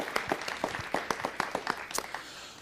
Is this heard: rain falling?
no